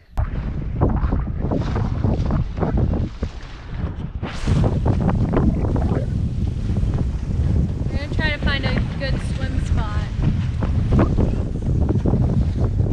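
A sailboat under way in steady wind, with constant wind buffeting and water noise throughout and brief faint creaks or whistles near the middle; talk is mixed in.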